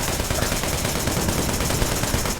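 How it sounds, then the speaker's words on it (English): Gunfire from the video game Wanted: Dead, a steady, rapid stream of automatic shots that stays loud and close throughout with no pauses. "See how I'm firing in a straight line, and most of my bullets just fly fucking everywhere?"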